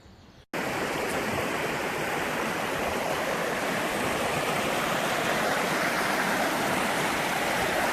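A stream swollen with snowmelt and rain rushes loudly and continuously close by, a broad roaring wash that begins abruptly after a brief quiet moment and holds steady throughout.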